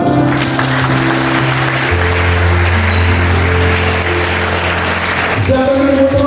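An audience at a school orientation gathering claps steadily throughout, a dense, even patter of applause over sustained musical tones from a keyboard or backing track.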